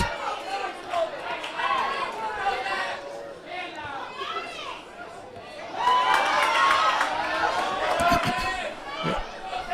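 Newport fans in the stands at a boys high school soccer match against Stayton create a lively crowd noise of shouts, chatter and calls close by, swelling louder about halfway through.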